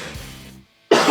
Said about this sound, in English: big old cough